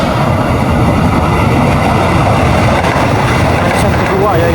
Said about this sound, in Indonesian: Persiapan KRL Inka melintas langsung stasiun Gambir.